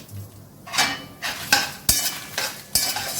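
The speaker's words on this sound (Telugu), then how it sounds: "సిమ్లో పెట్టి నిదానంగా వేయించుకోవాలండి" A spoon scrapes and stirs dry coriander seeds around a pan in a handful of separate strokes, close up, with no voices.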